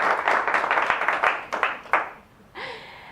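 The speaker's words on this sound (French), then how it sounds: "vous pouvez l'applaudir" A coaching school audience applauds a presenter, a short burst of clapping that fades after about two seconds before a voice begins.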